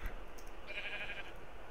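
A sheep in the video game Minecraft bleats once, a short, bright cry over a steady hiss of background noise.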